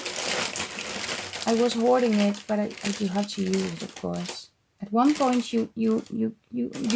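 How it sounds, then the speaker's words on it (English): Plastic bags holding lace crinkle and rustle steadily through the opening second, then return in brief bursts between phrases while someone talks over them. "Sorry for the noise, but it's in plastic bags still."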